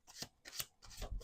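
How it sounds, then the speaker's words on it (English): Tarot cards being shuffled, three short quiet bursts of riffling paper in a steady rhythm, close and alone. "Let's do two more shuffles."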